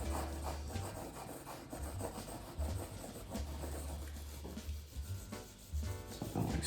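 A paintbrush scrubs paint onto canvas in a wet-on-wet landscape painting, producing a close, continuous scratchy rubbing in uneven back-and-forth strokes, with a low rumble running underneath.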